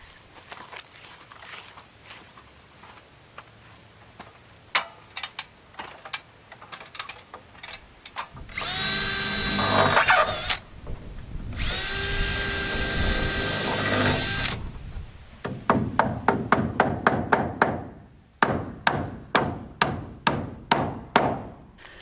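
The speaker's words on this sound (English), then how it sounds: "so I went and got a drill" A power drill driving into wooden rafters while hanging rafter hangers on a lean-to build: two long, loud whirring bursts in the middle, with sharp hammer-like knocks before and a quick run of taps after.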